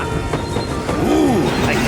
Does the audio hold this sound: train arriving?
yes